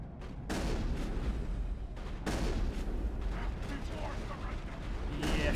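Shotgun blasts in Mass Effect, several loud sharp reports spaced a second or two apart over continuous combat noise, with a voice talking faintly underneath.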